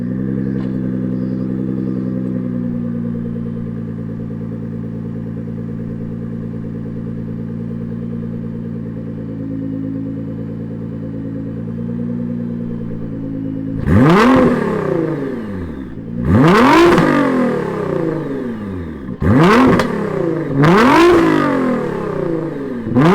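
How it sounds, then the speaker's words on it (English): Modified 2018 Nissan GTR R35 sitting at a steady, loud idle before sharp revs, with four or so quick bursts rising and falling back close by. "Let's fire up J-Rod's GTR and hear what it sounds like."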